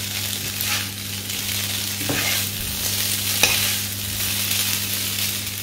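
Spring onions being stirred into chicken breast noodles in a pan, a steady close sizzle with scraping stir strokes and a brief utensil tap partway through, no voices.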